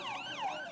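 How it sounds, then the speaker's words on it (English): An ambulance siren wails in rising and falling sweeps, loud and steady throughout, carrying injured people to hospital after mass pager explosions. "Ambulances carry injured people to hospital"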